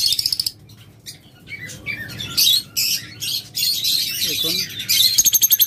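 A pair of lovebirds with colour mutations chirps in rapid bursts among other caged birds at a bird sale, bright and close, with a brief spoken word.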